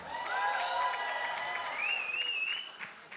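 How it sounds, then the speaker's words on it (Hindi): The audience at a film press conference for Pathaan claps steadily throughout, with whistle-like tones rising above the applause. It is moderately loud and fills the space. "एक बार जोरदार ताली होनी चाहिए।"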